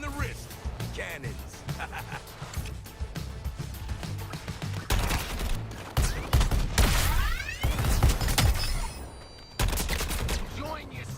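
Gunfire and cannon blasts in Suicide Squad: Kill The Justice League, repeated sharp bursts with brief pauses and whooshing effects, loud and close, with voices talking over the action.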